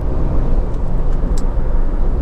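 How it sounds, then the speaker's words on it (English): A Honda CR-V 2.0 i-VTEC EX 4WD accelerates past a lorry, its engine and road noise forming a steady, loud low-frequency drone from inside the cabin, with no speech. "I'm just going to zip past this lorry"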